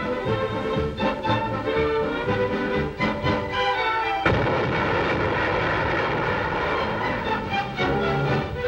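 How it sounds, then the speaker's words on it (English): Dense, loud rumble from Soviet ships firing depth bombs in the Baltic during wartime, with a sharp blast near the middle giving way to sustained roaring, booming noise under a heavy orchestral newsreel score. "Soviet ships fire depth bombs and find their fatal mark."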